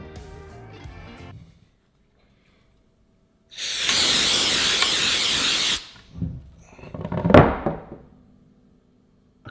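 Aerosol spray on the back of a guitar body being relic'd, one steady loud hiss lasting about two seconds, followed by a few softer clunks and handling noises.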